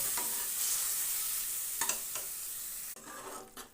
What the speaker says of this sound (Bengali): সামান্য একটু দুধ দিয়ে মশলাটা নেড়ে চেড়ে নেব